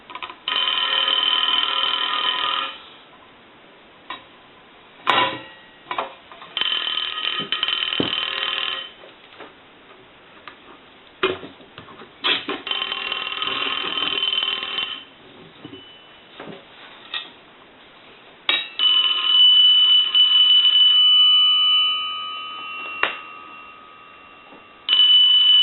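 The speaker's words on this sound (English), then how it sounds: "Now it's ringing like a bell." A brass rotary telephone's bell rings in several bright, metallic bursts with pauses between them, close by, ending in a longer sustained ring.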